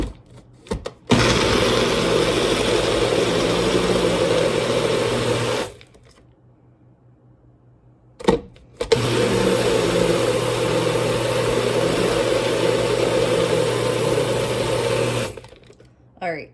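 Electric blender whirring as it mixes homemade red enchilada sauce ingredients, two loud sustained runs of about four and seven seconds separated by a short pause, with brief pulses at the start.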